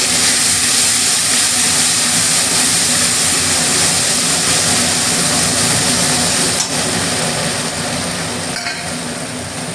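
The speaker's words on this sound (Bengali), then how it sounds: "এবার মশলাটাকে কষানো হবে," Spices and green chilies sizzle loudly and steadily in a hot pan while being stir-fried for a pea-greens and lyata fish ghonto, a dense continuous frying hiss with an occasional faint clink.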